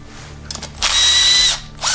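A power tool whirs in a short loud burst, spinning off the stator bolts on a GY6 scooter engine, with a brief lighter buzz before it and another quick burst at the end.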